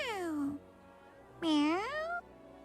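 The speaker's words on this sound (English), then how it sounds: "That's an odd cat sound." A cat in the Duet Night Abyss video game gives two drawn-out meows with a pause between them, close and clear, the second one longer and rising, with no talking.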